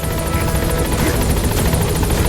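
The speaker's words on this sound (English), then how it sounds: "Support helicopter has arrived." Support helicopter arriving at a landing zone in Metal Gear Solid V, loud steady rotor thrum and engine whine filling the whole stretch, close and continuous with no talk.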